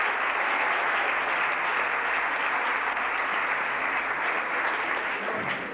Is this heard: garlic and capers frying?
no